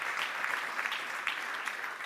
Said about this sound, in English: could we just give some applause, please, to all of our speakers